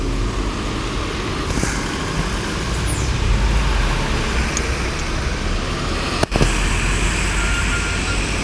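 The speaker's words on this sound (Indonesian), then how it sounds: "Nah, terjadi kemacetan ini di lampu merah Macan Lindungan." Evening traffic jam at a red light at Macan Lindungan in Palembang, with a tour bus among the queued vehicles: a steady, dense engine and road rumble with no voices, broken once by a brief sharp knock near the end.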